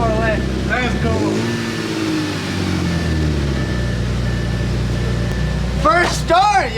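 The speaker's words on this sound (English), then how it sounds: "First start, top speed exhaust." A rebuilt Audi A7's engine starts for the first time and idles through its Top Speed exhaust with a steady, loud low drone, while people talk excitedly close by over the running engine.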